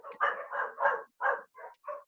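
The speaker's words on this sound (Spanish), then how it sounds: "Ay, qué perro de miércoles." A dog barks about six times in an uneven series of sharp, fairly close barks with short gaps between them, alone without talk.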